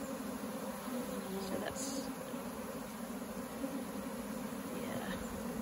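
Honeybee swarm buzzing steadily outdoors as the swarm is collected into a hive from a tree, a dense continuous drone holding level throughout, with a few brief words spoken over it.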